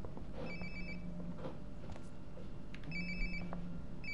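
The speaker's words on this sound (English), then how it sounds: "Sounds like my phone is definitely nearby." Phone ringing nearby in Life is Strange: Before the Storm, two clear bursts of a trilling electronic ringtone separated by a pause, moderately loud over a quiet room-tone background, with no talk.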